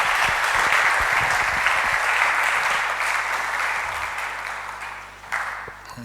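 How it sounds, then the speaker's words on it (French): A church congregation applauds during a worship service, a dense wash of clapping at steady volume that gradually thins and fades toward the end, with a brief louder burst near the close. "je ne vous ai pas empêché d'applaudir votre Dieu et mon Dieu"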